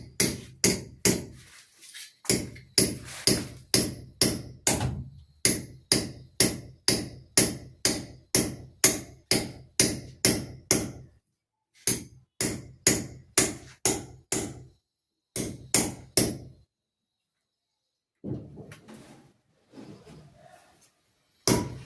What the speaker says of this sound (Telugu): సుత్తి సుత్తి